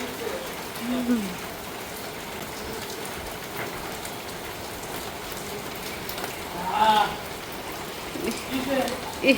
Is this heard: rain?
yes